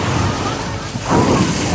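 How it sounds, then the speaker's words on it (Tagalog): Sea waves wash onto a beach at Liwliwa, Zambales, in a continuous broad roar with wind across the microphone, the surf swelling louder about a second in as a wave breaks and rushes up the shore. "So, ito na po ang lagay ng pag-alon dito sa dagat."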